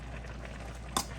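A full pan of collard greens bubbles and simmers as they cook down, a soft continuous sizzle with one brief sharper clink near the end, and no talking.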